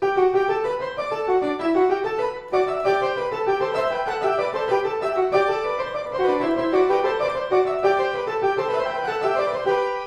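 A Bach canon unfolds in continuous interlocking melodic lines, a single voice folding over itself in repeating wave-like phrases, steady and fairly loud throughout.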